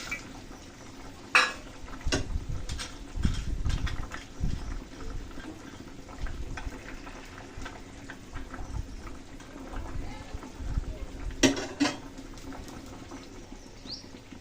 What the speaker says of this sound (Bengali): এখন দিয়ে দিচ্ছি বড়িগুলো।